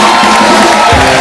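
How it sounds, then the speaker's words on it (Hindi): Loud studio audience on a comedy talk show clapping and cheering as an actor arrives on stage, a dense, continuous roar of applause and shouts with no clear gaps. "जैकी दादा के लिए जोरदार तालियां।"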